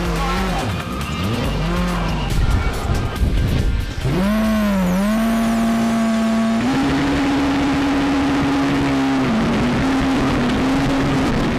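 Volkswagen rally cars leave the official start of the 2016 Volkswagen Rally, engines revving hard and rising in pitch with tires squealing, loud and close, followed by a sustained high engine note.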